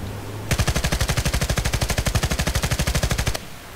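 An MG36/QBB-95 machine gun fires in the video game Battlefield Play4Free, a single sustained burst of rapid, evenly spaced shots lasting about three seconds, loud and close, then stopping abruptly.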